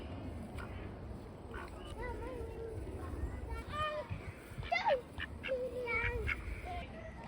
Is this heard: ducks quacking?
yes